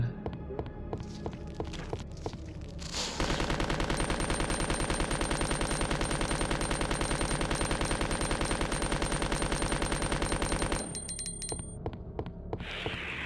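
Rapid repeated gunfire in the Resident Evil 2 video game, with a mod installed, forms a dense rhythmic burst lasting several seconds over a background hum, with sparser shots before and after.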